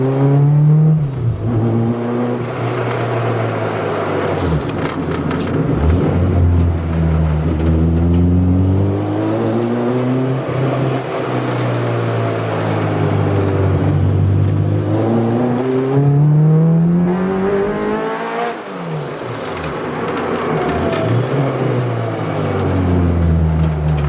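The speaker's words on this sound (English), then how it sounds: "we're gonna go ahead and drive this around and see the drivability of it on the E85" Tuned car running on E85 fuel driven on the road, its engine revving up through gears in repeated rising sweeps, loud and close throughout with brief dips between shifts.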